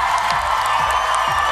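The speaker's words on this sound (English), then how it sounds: "a word and an applause for our gallant runner-up" A large studio audience at The X Factor live final cheers and applauds the runner-up Rebecca, a loud continuous roar of clapping and whoops filling the whole moment.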